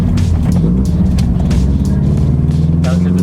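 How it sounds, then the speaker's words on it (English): Engine of a 2016 Scion FR-S, a boxer-four sports car, droning steadily from inside the cabin through a downshift, with low rumbling harmonics shifting pitch as revs change and faint talk in the background. "Downshift to second was pretty smooth."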